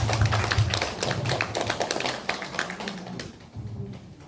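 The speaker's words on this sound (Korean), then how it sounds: "다들 박수 한번 드리겠습니다." A small group of elderly people at a church seniors' class claps briefly indoors, a quiet patter of hand claps that tapers off after a few seconds.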